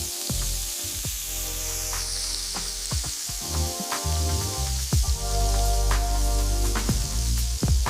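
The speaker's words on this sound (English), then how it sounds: "Listen to that incredible sound as the onions and beef hit the pan." Ground beef and onions sizzle loudly in a pan, a dense spitting hiss with sharp pops and crackles that swells stronger toward the end.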